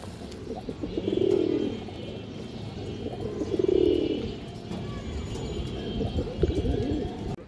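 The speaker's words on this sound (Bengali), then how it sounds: "এগুলো ভাই জাবরা কবুতর, লাল গিয়ারের।" Red-geared Jabra pigeons coo in two rounded, throaty bursts a few seconds apart, close by, over a low steady background hum.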